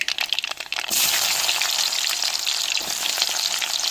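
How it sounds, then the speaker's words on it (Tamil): Chopped onions hit hot oil already holding mustard seeds and urad dal, setting off a sudden loud hissing sizzle that stays strong and close, after a few crackles and pops at the start. "எண்ணெய் சூடாயிருச்சுங்க கடுகு போட்டுக்கிறோம் ரெண்டு உளுந்து போட்டுக்கிறோம் வெட்டி வச்ச வெங்காயத்தையும் சேர்த்துக்கிறோம்"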